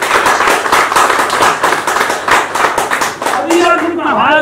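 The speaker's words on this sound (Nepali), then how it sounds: "यसको लागि तपाईँले एकचोटि तालीबाट धन्यवाद दिनु" Sustained audience clapping at the 23rd annual general meeting of the Panchakanya savings and credit cooperative, dense and loud throughout, with a voice rising briefly near the end.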